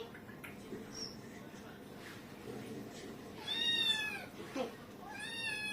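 A pet cat meows twice up close, the second call longer and rising, while a person talks softly in the background.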